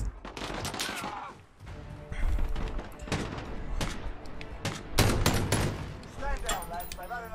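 Rapid bursts of automatic gunfire and single shots in the survival video game Rust crack out in dense clusters, loud and close, with excited voices talking and shouting over the shooting.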